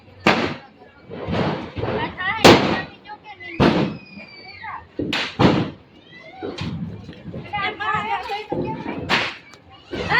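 Diwali firecrackers burst in several sharp, loud cracks spread across the scene, mixed with excited voices of people talking and calling out nearby.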